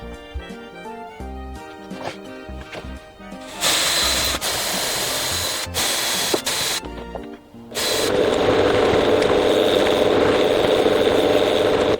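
A power drill bores a screw hole freehand while a cyclone separator dust collector is being built, running in two loud, close bursts of steady whirring, the second longer and more sustained.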